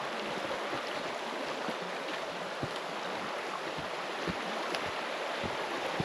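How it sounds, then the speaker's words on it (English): A river runs over rocks along a hiking trail in Sweden, giving a steady, soft rushing wash with occasional faint knocks, heard from a little distance with no talking. "look at this beautiful river running through here."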